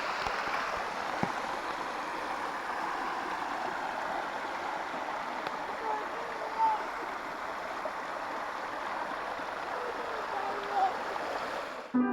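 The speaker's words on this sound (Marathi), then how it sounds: "आता मस्त पाणी वाहते" A small forest stream near a temple flows steadily nearby, a continuous soft rushing of water with faint gurgles, no voices.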